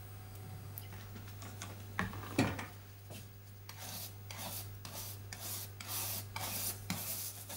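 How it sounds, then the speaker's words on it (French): Faint rubbing and scrubbing as a varnished copper printing plate is cleaned with solvents on a heated surface, soft irregular strokes over a steady low hum in a quiet workshop. "La première étape du processus d'impression est donc de dévernir le cuivre sur une surface chaude à l'aide de solvants."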